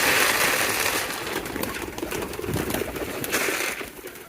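A large flock of pigeons crowds in at feeding time when a bowl of food arrives, giving a dense, loud, continuous mass of cooing and fluttering close by, with no talking.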